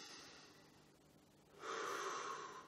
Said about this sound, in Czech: Zkuste změnit vaše dýchání, takže dýchejte pomalejc.